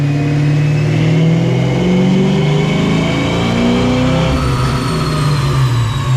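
A Ford 306 GT-40 V8 car screams on a dyno, holding a loud, sustained high-rpm roar with a rising pitch throughout.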